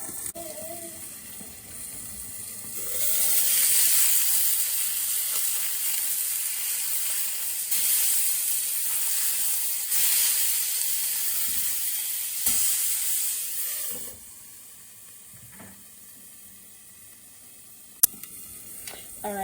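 Fish fries in oil under a pan lid for a fish taco filling, a loud, steady sizzling hiss that swells early, holds, then drops to a softer simmer, ending with a sharp click.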